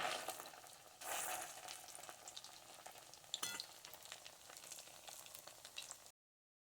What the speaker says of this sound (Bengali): এপাশ ওপাশ করে ভালোভাবে কিন্তু ভেজে নিতে হবে পিঠেগুলো।